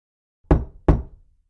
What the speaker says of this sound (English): The wolf knocks on Grandma's door.